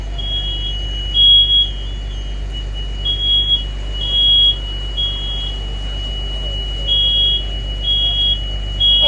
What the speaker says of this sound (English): Looks like our detector's going to go on.